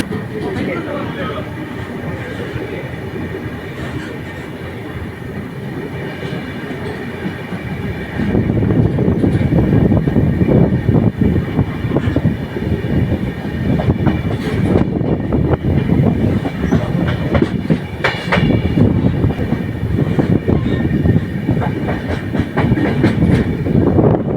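The Shivamogga–Chennai Superfast Express rumbles along the tracks, growing suddenly louder partway through with rhythmic clatter and metallic screeching, heard close up from on board.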